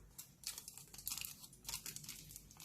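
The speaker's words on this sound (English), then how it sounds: "you need to take a foil paper" Foil paper crinkles and rustles in short handled bursts while it is wrapped around cotton-covered fingertips to soak off acrylic nail extensions; the sound is close and moderately quiet, with no talking.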